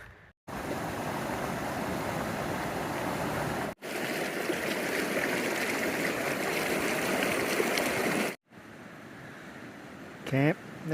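Creek water rushing steadily beside a backcountry campsite amid fallen trees, a constant broadband wash broken by two brief cuts, with a faint voice near the end.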